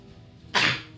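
A single sharp sneeze from a player around a tabletop role-playing game session, short and fairly close, rising abruptly out of quiet room tone.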